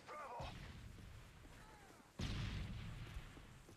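Gunfire in an online match of the video game Modern Warfare 3: two sharp bursts, one near the start and a louder one midway, each trailing into a rumbling echo, with quieter battle noise between them.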